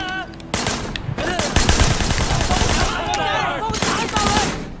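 Automatic gunfire in the Sleeping Dogs Definitive Edition video game, loud dense bursts of rapid shots crackling almost continuously, with a voice talking under the shooting.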